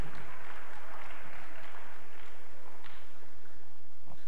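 An audience applauds after a Q&A talk show session, a soft, diffuse patter of many hands clapping heard from a distance with a low hum underneath.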